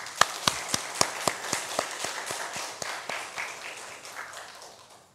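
Korean church congregation clapping, sharp distinct claps in a quick rhythm that gradually slows and thins out, fading away toward the end.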